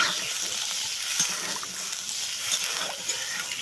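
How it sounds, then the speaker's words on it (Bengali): Fish curry of small mourala fish with hog plums simmering in a pot in a Bengali village kitchen, giving a steady bubbling, sizzling hiss with faint stirring clinks, close and continuous. "দেখো কেমন ফুটে আসছে"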